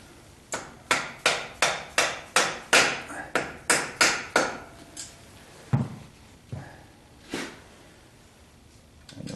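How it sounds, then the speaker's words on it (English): A dozen quick, evenly spaced metallic taps drive an alternator bolt through its bracket on a 1976 Corvette, followed by a few slower, sparser knocks, close and clear with no talk. "I'm going to gently tap that bolt through"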